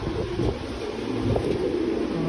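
Racing pigeons coo softly in a loft, with low, rolling calls repeating against a steady background hum.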